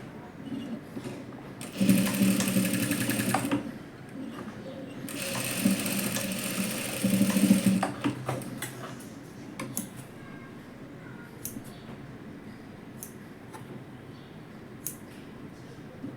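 Sewing machine stitching leftover fabric into a dress, two loud runs of rapid whirring stitches separated by a pause, then faint ticks and handling.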